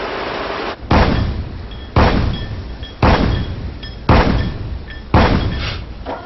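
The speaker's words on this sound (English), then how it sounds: "And the 76mm cannon, firing 120 rounds per minute." A 76mm naval cannon fires five booming shots at an even pace, about one per second, each blast trailing into a rolling echo.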